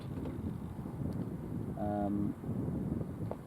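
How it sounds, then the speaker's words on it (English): Steady wind buffets the microphone at an outdoor shooting range, a constant low rumbling roar through the whole stretch with a brief faint tonal whine in the middle. "we've still got some wind coming in around about 5-6 miles an hour"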